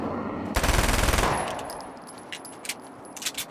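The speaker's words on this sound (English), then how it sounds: "Oh, an SMG? I guess it's about time I went full auto." In the Alan Wake video game, an SMG rips off a short, loud full-auto burst of rapid shots lasting under a second, followed by scattered quieter clicks and clatter.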